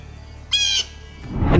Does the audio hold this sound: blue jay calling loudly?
yes